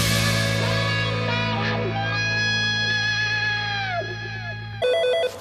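A telephone rings repeatedly with a steady electronic tone under a low hum, continuing alone without talk for several seconds before a brief louder burst at the end.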